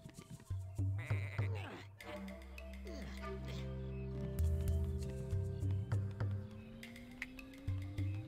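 Sheep in the video game Tak and the Power of Juju bleat in repeated wavering calls over sustained game music and effects, loud and close.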